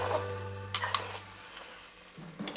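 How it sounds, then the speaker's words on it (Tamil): Quail gravy masala being stirred in a pan, a short burst of scraping and soft sizzling under a steady low hum, with a few sharper spoon knocks toward the end. "அடியில் இருக்க மசாலாலாம் காடையில் வந்து ஃபுல்லாக பிளெண்ட் ஆகிற மாதிரி நல்லா மிக்ஸ் பண்ணிக்கோங்க."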